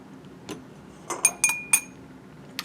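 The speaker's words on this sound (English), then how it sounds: "Rinse my stir bar." Glass stir bar clinking against laboratory glassware during rinsing, with a few sharp bright chinks close by, one soft tap first and three ringing clinks in quick succession, then quiet.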